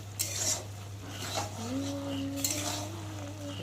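Lote fish curry with potatoes and chopped stems being stirred in a pot, giving a few light metallic clinks and scrapes of the utensil over a steady low hum, with no talking.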